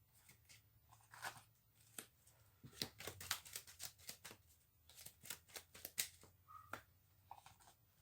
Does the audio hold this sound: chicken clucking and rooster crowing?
no